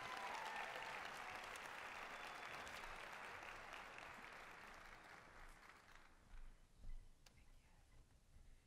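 Faint audience applause at a live awards event swells as a presenter comes up, then tapers away into quiet room noise with a few soft sounds.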